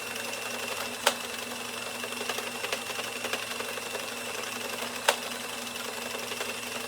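A hand-cranked Addi knitting machine, fitted with a motor, runs at speed with a steady, dense mechanical whir and clatter, broken by two sharp clicks, close and continuous with no voices.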